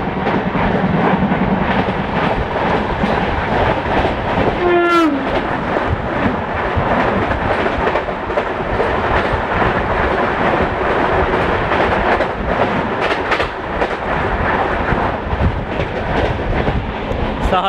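A passenger train rolls on the Jalgaon to Indore route, loud continuous rumble and clickety-clack of wheels over rail joints, with a brief horn-like tone partway through.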